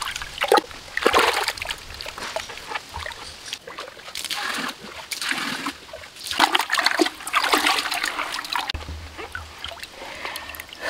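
Water splashes and sloshes steadily as sand is washed by hand outdoors, a continuous wet churning with irregular surges and splatters, close and fairly loud throughout.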